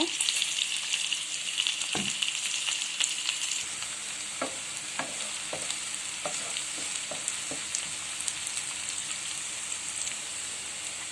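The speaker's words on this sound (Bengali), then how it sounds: "তো পেস্টটা আমি ভালো করে ভেজে নিব" Dried jute leaf paste frying in a pan for a Bengali jute leaf dish, with a steady broad sizzle and a few sharp spatula scrapes and taps against the pan, close and alone without talk.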